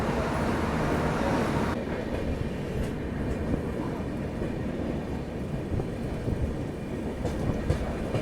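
The Vikramshila Superfast Express rumbles steadily along the rails near Patna Junction, a loud continuous roar with wheel clatter running throughout.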